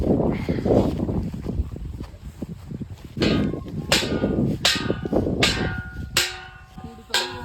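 A crop-field noise machine set up to scare off wild boars sounds in a series of sharp, loud metallic bangs or cracks, about six spaced strikes over a rumbling, windy background.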